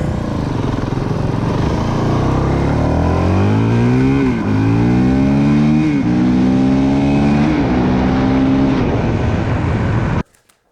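A Honda CRF450L motorcycle engine revs repeatedly toward its 10,000 rpm limiter, climbing and dipping in loud, close, sustained surges before it cuts off abruptly at the end.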